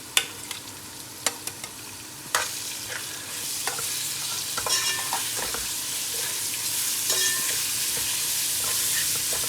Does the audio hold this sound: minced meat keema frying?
yes